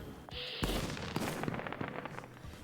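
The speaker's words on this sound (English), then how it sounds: "You try out the most recent fireworks created by the guild." Fireworks rockets going off in the video game Baladins: a whistling launch followed by a burst and a quick string of crackling pops, loud and close.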